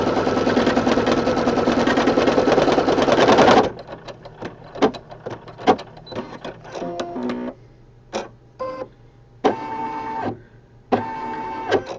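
An embroidery machine sews a satin stitch on a clover design in a 4x4 hoop, a loud steady mechanical whirring that stops abruptly, followed by scattered clicks and short motor bursts.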